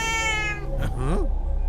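A cat gives a loud, close, drawn-out meow in a Hindi-dubbed South Indian action thriller film, the cry rising and bending in pitch over a steady background hum.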